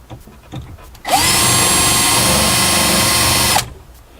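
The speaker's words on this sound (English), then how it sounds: "drill the hole" A power drill bores a hole in a bathroom vanity shelf during installation, a steady, loud whine running unbroken for about two and a half seconds after some quieter handling noise, then cutting off abruptly.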